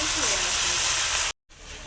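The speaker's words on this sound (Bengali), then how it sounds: "ভালো করে মশলাটাকে ভেজে নেব" Spice paste fries in a pan with a loud, continuous hiss and sizzle close by, briefly broken by a short gap before resuming.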